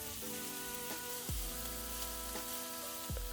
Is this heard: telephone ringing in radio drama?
no